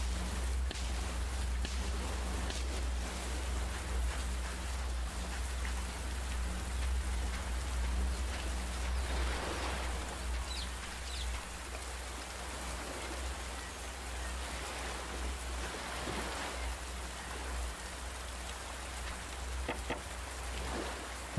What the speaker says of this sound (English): as soon as it stops raining,